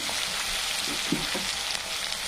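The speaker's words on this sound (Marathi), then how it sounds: "छान काजू पण फ्राय होऊ द्यायचे आहेत" Cashews frying in hot oil for a pulao masala, giving a steady, fairly quiet sizzle with a few soft stirring sounds and no talking.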